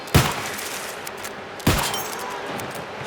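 Two sharp rifle shots fired in the online game New World while hunting stags, each a loud crack with a short decaying tail, spaced about one and a half seconds apart.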